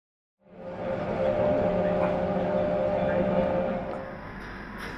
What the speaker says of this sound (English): We got our bikes on the train and took it up to the top to Murren.